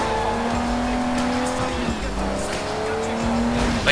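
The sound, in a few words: car driving in Sleeping Dogs video game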